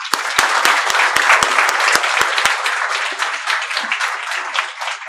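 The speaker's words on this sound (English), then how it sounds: "Please welcome Kannan Gopinathan sir with rounds of applause." Audience applause welcoming a former IAS officer to a talk on bureaucracy and democracy: a few sharp, close individual claps ring out at the start over a continuous wash of crowd clapping that carries on steadily.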